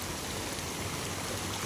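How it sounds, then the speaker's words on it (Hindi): A mountain waterfall along the Gangotri-to-Kedarnath foot trek roars as a steady, dense rush of water, close and continuous with no voices. "फिर एक झरना आया।"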